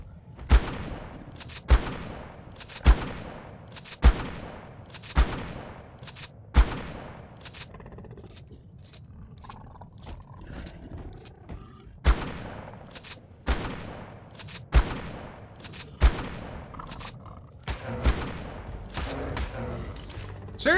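Gunfire from the video game Ark fires in repeated sharp bursts, one every second or so, with a quieter stretch in the middle. The shots are loud and close, with faint scraping between them.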